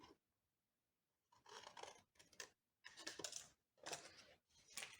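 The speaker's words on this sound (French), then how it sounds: "On s'est simplifié la vie avec les ciseaux" Scissors cut through card paper in short, separate bursts of snipping and rasping, close and quiet against a silent background, with no talk.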